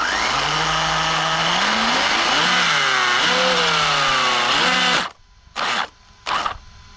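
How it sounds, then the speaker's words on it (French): A small engine on a KKPIT 1-7 pit bike on a lawn runs at a loud, raspy high idle with rising and falling revs. Then it cuts out and two short revving bursts follow. "c'est le moteur"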